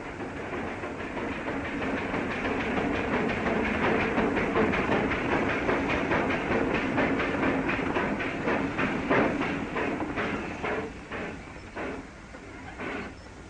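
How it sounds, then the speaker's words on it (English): A steam train rumbles steadily inside a tunnel with rhythmic clattering of wheels over rail joints, the sound dense and enclosed, gradually easing and thinning toward the end as it slows to a stop. "The train came to a stop with the passenger coach still inside the tunnel"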